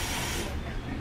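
Running water from a kitchen tap while hands are washed gives a steady, close hiss that fades partway through the short moment.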